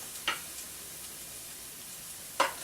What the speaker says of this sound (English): Simmer these garlics golden.